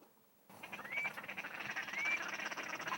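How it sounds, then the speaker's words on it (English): A hunter's duck call blown in a beaver marsh gives two drawn-out, nasal quacks about a second apart over a steady outdoor background, moderately close with no talking. "the sweet, artificial quack that the duck call makes"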